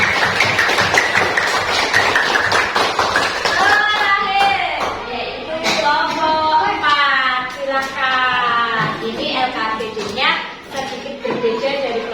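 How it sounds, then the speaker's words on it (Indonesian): Children in a classroom clap for a group. Dense tapping claps open the stretch, then voices chanting and talking take over, with scattered claps beneath. "Kita beri tepuk tangan untuk kelompok."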